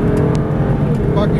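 Aston Martin DB9 accelerating at full power on a race track, a loud, steady engine roar held close throughout, with an instructor's voice speaking over it.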